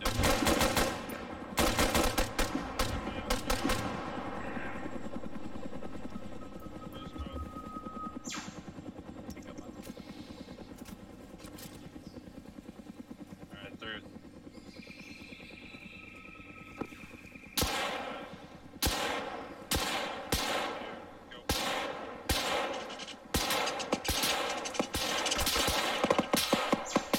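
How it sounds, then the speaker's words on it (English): Automatic gunfire crackles in sharp bursts during a jungle firefight in the video game Arma 3, with a helicopter's droning rotor beneath and heavy volleys clustering toward the end. "We need to provide covering fire."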